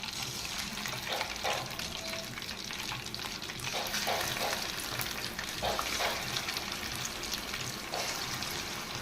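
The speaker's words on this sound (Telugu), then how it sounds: "మిగతా కూడా మనం డీప్ ఫ్రై చేసుకుందాము" Chicken pieces deep frying in hot oil for a biryani, a steady loud crackling sizzle with small bubbling pops and occasional stirring scrapes throughout.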